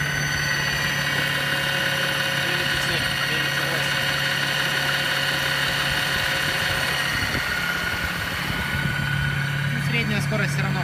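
A small boat driven by a Torqeedo 1003 electric outboard gets up on plane, giving a steady droning whine with a low hum under rushing water and wind noise, continuous and close, with a voice briefly present.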